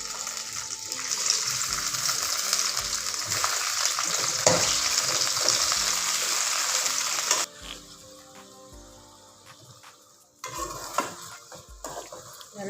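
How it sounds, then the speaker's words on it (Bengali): Okra (ladies finger) frying in hot oil, a loud steady sizzle for about seven seconds with stirring scrapes, then dropping to a quieter crackle before a brief burst of louder sizzling and utensil clatter. "তো তেলটা গরম হয়ে এসছে, আমি এখন এখানে ঢেঁড়সটা ফ্রাই করে নেব।"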